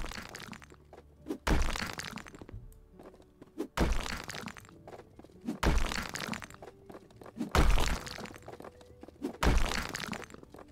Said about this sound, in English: I think these are the walls I meant to destroy.